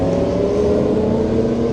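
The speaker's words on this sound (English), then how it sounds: "I'll wait till those motorcycles go by, because man, that was loud." Motorcycle engines drone steadily and loudly as they pass along Atlantic Avenue in Atlantic City at night, a continuous low rumble with a humming tone and no voices.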